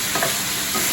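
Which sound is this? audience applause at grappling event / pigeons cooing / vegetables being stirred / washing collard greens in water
vegetables being stirred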